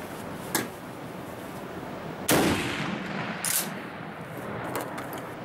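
A WW1 replica sniper rifle fires at a 300 m outdoor range: one sharp, loud report with a decaying tail, followed about a second later by a fainter distant crack, over steady outdoor background noise.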